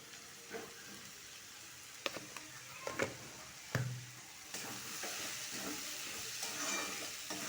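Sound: onion frying with salt in a pan

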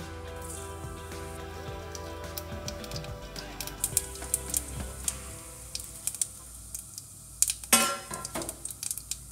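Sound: cumin seeds sizzling in hot oil

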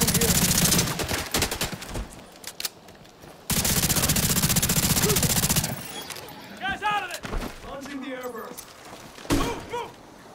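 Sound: gunfire in video game The Division 2

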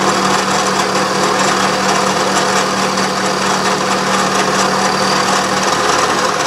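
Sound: milling machine climb milling a steam engine part

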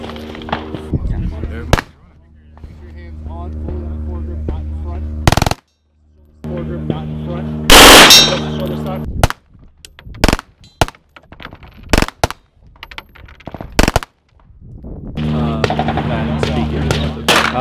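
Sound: KRISS Vector firing full auto

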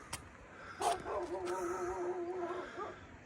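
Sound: dog barking

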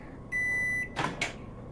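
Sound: microwave oven running in the video game Job Simulator

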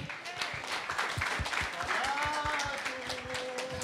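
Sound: audience applause at a stand-up comedy show

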